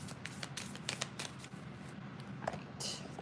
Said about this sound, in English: I'm just gonna go ahead and shuffle